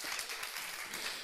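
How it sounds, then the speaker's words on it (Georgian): An audience applauds at a televised show, a dense wash of clapping that is moderately faint and continuous through the brief moment. "აპლოდისმენტებით გავაცილოთ."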